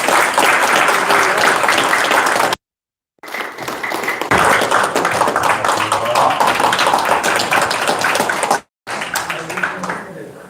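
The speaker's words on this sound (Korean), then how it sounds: "이 시간 우리 박수로 마치도록 하겠습니다" Applause from a gathered crowd at the close of a session at a local election campaign event, dense and sustained for several seconds, broken by two brief dropouts before resuming.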